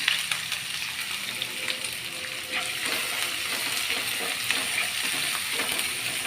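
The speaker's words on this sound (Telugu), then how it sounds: "ఇప్పుడు ఉల్లిపాయలు వేసేస్తున్నాం" Onions dropped into hot tempering oil with spluttering seeds for an egg and drumstick curry, a dense, steady close sizzle with faint stirring scrapes and no talk.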